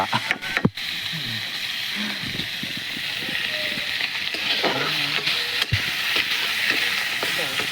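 Vegetables fry in a pan with a steady sizzle while a spatula stirs and scrapes, giving occasional sharp clanks against the metal, and voices talk over the cooking.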